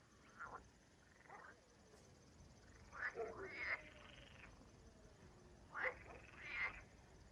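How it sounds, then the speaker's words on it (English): Frogs croak and sing at sunrise in a faint outdoor chorus, with several short bursts of croaking spaced a few seconds apart over a quiet, hissy background. "Frogs singing."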